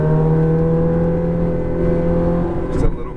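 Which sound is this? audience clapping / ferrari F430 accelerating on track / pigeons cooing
ferrari F430 accelerating on track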